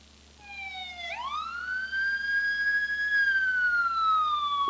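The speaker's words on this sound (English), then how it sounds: "Within moments, the Saukville ambulance responded." An ambulance siren from the Saukville ambulance answering a call for a young man collapsed from heat, wailing alone in a rising then steady tone that swells louder and nearer throughout.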